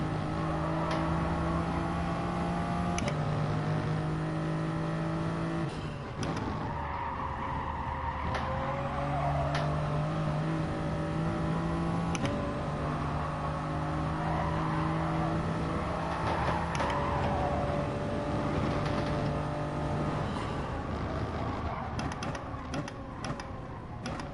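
Turbocharged GT race car in GT Sport, its engine revving up and down through gear changes with tire squeal, loud and continuous across a lap.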